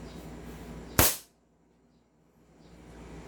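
A single sharp pop from an upgraded M4 SigSauer MCQB airsoft rifle with a fixed outer barrel, trigger job and big bore nozzle, fired once loud and close, followed by near silence.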